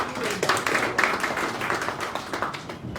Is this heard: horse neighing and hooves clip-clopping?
no